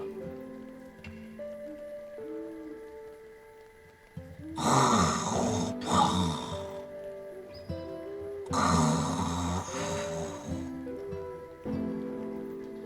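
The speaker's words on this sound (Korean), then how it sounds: "거인이 코를 골 때마다 나뭇가지가 흔들렸다." A giant snoring beneath a big tree in a forest in a Korean folktale: two loud, rasping snore bursts, each about two seconds long, rise over soft background music with quiet gaps between them.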